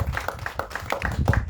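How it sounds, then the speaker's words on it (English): Sparse, distinct handclaps in a quick irregular rhythm come from a small audience at a farmer support programme event, heard close and brief. "A round of applause to African agriculture."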